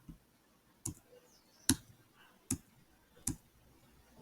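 Computer keyboard keys pressed while paging through PowerShell help output, four sharp separate clicks spaced about a second apart, close and fairly quiet with nothing else around them.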